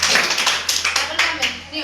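Children clapping hands in rhythmic bursts during a counting-and-jumping activity, sharp repeated claps near and fairly loud, with a voice talking over them.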